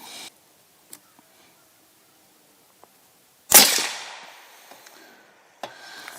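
A single sharp rifle shot from a CVA Cascade XT in 6.5 PRC firing Barnes ammunition, a loud crack with a trailing outdoor echo, set between faint clicks and handling noises.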